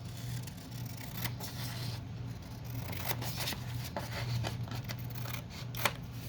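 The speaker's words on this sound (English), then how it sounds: "I'm just going to cut it a little bit off" Scissors cutting through a composition book cover, a series of close, crisp snips over a low steady hum, with no talk.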